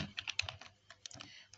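Quick, irregular keystrokes on a computer keyboard while entering Python code, clustered in short bursts with brief pauses, close and fairly quiet.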